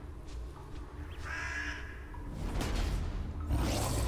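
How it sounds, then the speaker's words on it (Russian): A crow caws in the Witcher 3: Blood and Wine video game, a couple of harsh calls over steady in-game ambience and a rising whoosh near the end. "Сейчас птичку убьет, нет?"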